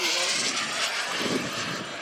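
A radio-controlled model sport jet flies overhead at a noon demo show, a steady broadband turbine-like roar that holds constant for two seconds and swells slightly near the middle.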